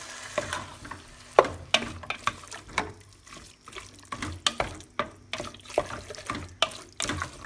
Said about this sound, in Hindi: आतां दुकरा मास घालता. हो बरो फ्राय जाला. दुकरा मास घाल. सगळें मिक्स करता.